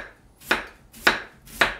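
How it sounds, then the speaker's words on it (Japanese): A knife slices through onion for watercress potage three times in a slow, even rhythm, each cut a crisp thud on the board, close and alone. "玉ねぎ薄切りにして"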